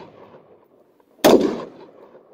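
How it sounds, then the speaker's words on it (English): One loud, sudden rifle shot from an AR fired outdoors at a small keg, a sharp crack that decays over about half a second against a low background murmur. "Now I'm shooting this little keg down here."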